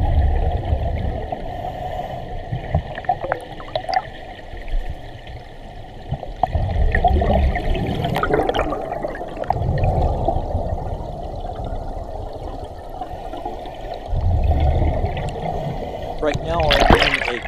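Strong river current in high water, heard underwater during a dive among spawning lampreys: a steady rushing wash with bubbling surges that swell and fade in waves, while a diver talks over it.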